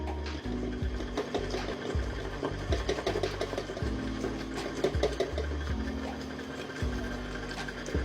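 A stand mixer runs while flour is added to activated yeast water for homemade pizza dough, a steady mechanical whir with a rhythmic periodic thump as the dough hook turns, close by and without talk.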